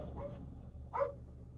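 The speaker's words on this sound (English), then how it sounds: "that's caused the dog below me to bark" A dog in a flat downstairs gives two muffled barks, the second louder, heard faintly through the floor over low room hum.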